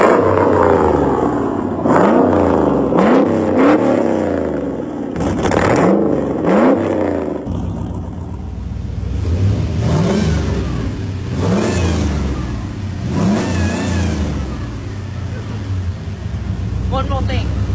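Grey sports car engine fires up and revs hard in several sharp rising bursts, then settles into a rumbling run with more throttle blips, loud and close throughout.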